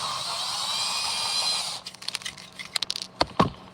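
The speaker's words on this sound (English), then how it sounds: "So you drill out the top and bottom with 2 different depths." A drill boring out the top and bottom of a ring to two different depths, heard as a steady high-pitched whine for almost two seconds, then broken into short grinding bursts and clicks close by.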